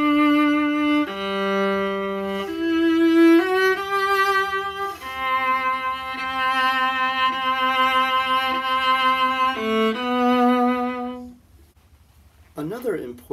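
A solo viola plays the opening movement of a Telemann concerto with vibrato, the connected line of sustained notes subtly wavering in pitch, close and full before stopping.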